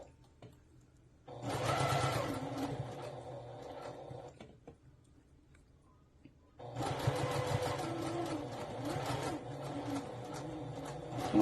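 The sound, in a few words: sewing machine stitching gathered fabric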